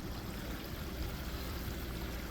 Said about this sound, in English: So the black tank is flushing and draining out.